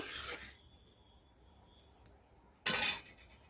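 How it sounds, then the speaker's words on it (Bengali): A spoon stirs a pot of simmering mung dal with ridge gourd, making two brief, close rasping scrapes with a near-silent pause between them. "এ দেখুন আমি আবার একটু নাড়াচাড়া করে দিচ্ছি"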